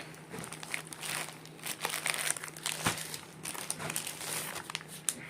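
A plastic packet of spice powder is handled near the microphone, making irregular crinkles and crackles with a few sharper crunches, and no voice.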